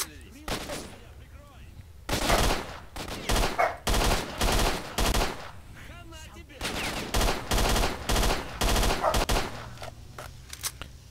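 Bursts of submachine gun fire in the S.T.A.L.K.E.R. video game, several loud rapid volleys separated by short pauses, with a dog barking and faint talk in between.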